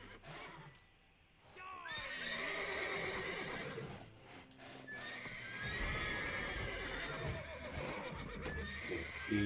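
Several horses in The Witcher 3: Wild Hunt neigh and whinny again and again amid steady hoof clip-clop, with a brief lull near the start, then loud and continuous.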